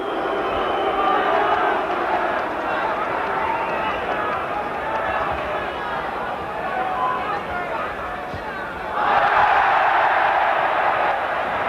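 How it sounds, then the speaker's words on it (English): A large boxing arena crowd at the 1972 Foster versus Finnegan light-heavyweight title fight roars in a sustained swell of jeers and shouts, rising louder near the end, with a commentator talking over it throughout. "The champion is teasing Finnegan now, and that's what the crowd think of it"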